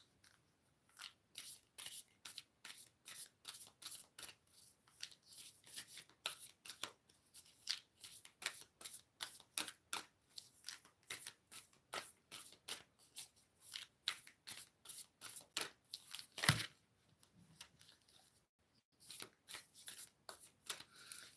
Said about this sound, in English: What is the message for the divine masculine from the Starseed cards?